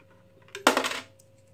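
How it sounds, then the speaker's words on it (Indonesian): A single coin dropped into an automatic ATM-style piggy bank deposit safe, a short metallic clink and rattle lasting about half a second, close and clear against a quiet background. "Coba kita masukin koin ya."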